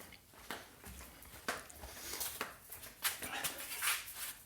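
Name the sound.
dog whimpering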